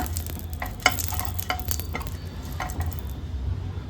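Oil spread over a hot tawa before paratha batter goes on makes a close, steady sizzle, with a cluster of metallic scraping and spreading strokes early on that fade out toward the end, and no talk.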